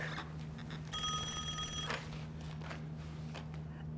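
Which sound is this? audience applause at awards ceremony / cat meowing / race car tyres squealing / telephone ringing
telephone ringing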